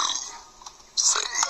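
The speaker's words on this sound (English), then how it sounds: "I can burp on all the letters" A person burps loudly at close range, with a brief first belch, a short pause, and then a stronger, longer one.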